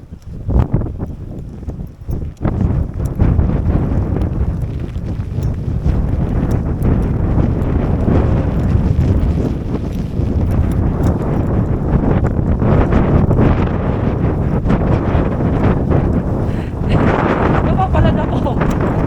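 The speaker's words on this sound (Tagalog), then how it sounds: "Kasi nga ang lakas-lakas talaga ng hangin." Strong wind in rural Alaska buffeting the microphone in a loud, continuous low roar with gusty surges throughout.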